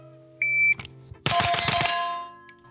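A shot timer's electronic buzzer gives a short, clean tone at pistol-caliber carbine practice, followed by a rapid burst of loud gunshots and a quieter beep near the end.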